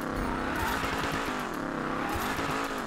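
A Mercury Cougar drift build sliding in Need for Speed Payback, with a loud sustained engine roar and wavering tire squeal running continuously, the engine pitch rising and falling as the car swings through the drift.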